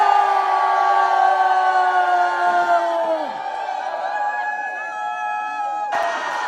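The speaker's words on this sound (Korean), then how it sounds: "우리 응원단과 함께 마지막으로 하늘 앞에 함성으로 영광 돌리도록 하겠습니다" A rally crowd in Korea, gathered over a trial, raises a long, loud collective shout with sustained voiced tones that fade after about three seconds into murmur, followed by a sharp burst near the end.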